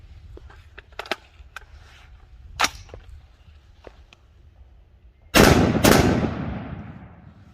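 A Ruger SFAR rifle fires its last four rounds. Faint mechanical clicks and handling come first, then loud, close, sharp reports land in quick succession, each leaving a long ringing decay.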